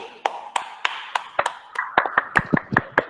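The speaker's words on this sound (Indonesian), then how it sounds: "Aplaus dulu untuk" Applause for Riki during an online class: sparse, light clapping from only a few people, heard as a run of separate taps that grows a little denser toward the end.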